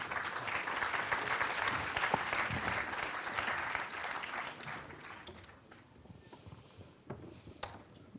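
An audience at a national biomass conference round table on wood energy applauds the speakers. Full, dense clapping fills the first half, then fades to a few scattered claps.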